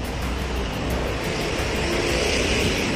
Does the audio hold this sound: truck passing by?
yes